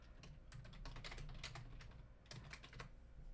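Rapid keystrokes on a computer keyboard while typing a chat message, a quiet close-up patter of irregular clicks with no talking.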